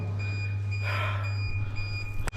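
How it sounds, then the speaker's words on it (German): A drain cleaning machine on a blocked drain emits a repeated electronic beep over a steady low motor hum, with a short thump near the end. "Die piepst immer noch."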